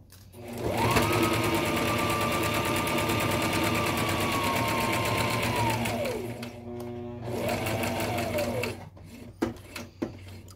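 A sewing machine stitches together pieces of a fabric face mask with a long continuous whirring run, a short pause, then a second shorter burst, followed by a few faint clicks as it stops.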